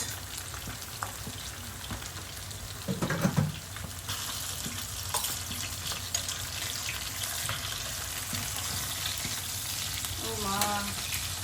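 Pabda fish, potatoes and flat beans fry in a pan, a steady soft sizzle running throughout with occasional clatters of stirring.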